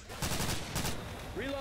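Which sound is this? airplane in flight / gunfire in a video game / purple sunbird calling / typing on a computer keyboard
gunfire in a video game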